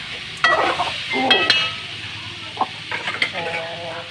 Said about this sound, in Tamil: வெண்டைக்காய் எடுத்து கொட்டினோன்னே ஒரு கிளறி விடுங்க